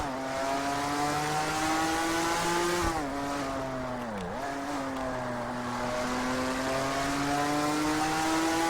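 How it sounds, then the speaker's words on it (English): Race car engine in the Total Immersion Racing video game, a steady loud high-revving drone with a brief dip in pitch as the car shifts or brakes, then climbing again, with no speech. "listen to that sound of that engine"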